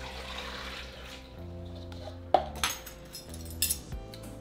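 Two cups of water pour into a blender jar of strawberries, sugar, lemon and orange juice for a mango-strawberry chamoyada, a short splashing pour with light clinks of kitchenware over a soft steady hum.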